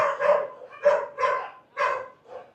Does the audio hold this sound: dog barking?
yes